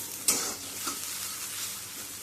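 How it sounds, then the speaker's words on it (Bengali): Potatoes fry in a pan with a soft, steady sizzle, broken by a couple of quick stirring scrapes, heard close and fairly quiet. "আর এখানে আলু ভাজাটা হয়েই গেছে"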